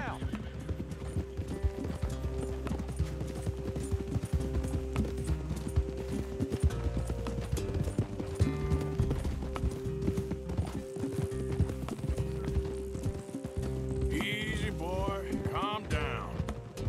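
Horse hooves clip-clop in a fast, steady gallop through Red Dead Redemption 2 gameplay, continuous and fairly close, with a whinny toward the end and talking throughout.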